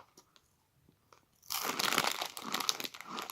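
Real McCoys crisps crunched loudly and steadily up close, after a quiet moment with a few faint rustles of the bag.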